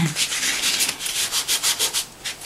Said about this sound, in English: And then I will rub with the sponge again.